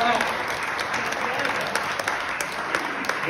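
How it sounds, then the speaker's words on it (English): Applause from the congregation at an Easter Sunday church service, a steady patter of many hands with a few sharper claps and voices mixed in beneath. "Give a round of applause."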